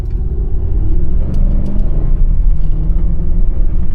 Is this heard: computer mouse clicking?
no